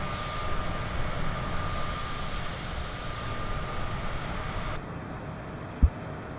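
A video-game airplane engine drones steadily in flight with a broad, constant roar that cuts off abruptly near the end, followed by a single low thump.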